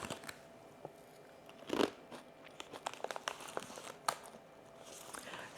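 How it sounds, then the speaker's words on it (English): Someone crunches dill pickle potato chips, sharp snapping bites and crackly chewing with bag crinkles scattered between, close and fairly quiet, with no talking. "Super crunchy potato chips."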